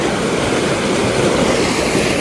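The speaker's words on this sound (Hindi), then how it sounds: "पानी का शोर देखें कितना प्यारा लग रहा है" Rushing water beside a snowy mountain road between Kalam and Swat makes a loud, steady, broadband roar that fills the whole stretch with no talk.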